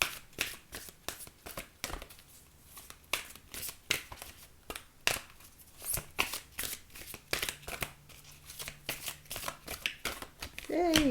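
An oracle card deck shuffled by hand, a long run of quick papery riffles and slaps in irregular bursts, close and fairly clear, with a brief voice near the end.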